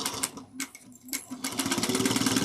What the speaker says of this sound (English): that is my thread spool hitting my light